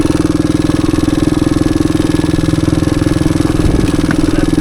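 A 1985 Suzuki DR250 trail bike engine runs steadily close by, its loud, even single-cylinder thump holding near idle with a brief blip of throttle near the end.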